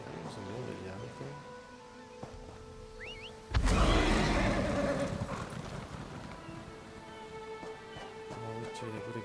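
A horse in The Elder Scrolls Online neighs and clip-clops amid game ambience, with a loud burst of noise partway through and an ongoing background hum.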